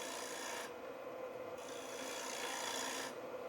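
Woodturning tool cutting fine shavings inside a hollow wooden form on a lathe, a continuous rasping hiss that steadily holds, briefly lightening and returning, close and moderately loud.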